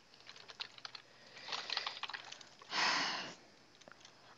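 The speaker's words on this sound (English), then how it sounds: "Stop typing." Fingers typing on a computer keyboard in quick, scattered bursts of clicks, soft and close, with a louder rush of key noise partway through.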